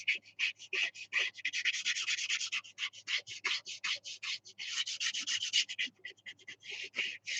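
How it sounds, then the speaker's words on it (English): A beater brush rubs art medium into unprepared canvas in rapid, rhythmic scratchy strokes. The scrubbing is close and fairly quiet and continues for several seconds without speech. "I'm just gonna rub this in."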